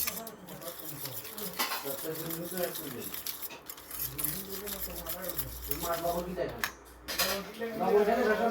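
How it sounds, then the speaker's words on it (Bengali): Eggs and sugar being whisked together in a bowl for a homemade cake, a busy metallic scraping and clinking against the bowl repeating throughout while a person talks over it. "চিনি আর ডিম একসাথে ফাটিয়ে নিতে হবে"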